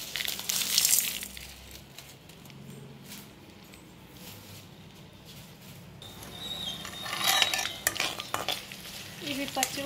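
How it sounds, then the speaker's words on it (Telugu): Dried red chillies, garlic and tempering spices fry in hot oil in a kadai while a spoon stirs and scrapes the metal, with crackling sizzle bursts and quieter stretches between. "ఇవి పచ్చివాసన పోయేంత వరకు వేయించుకోవాలి"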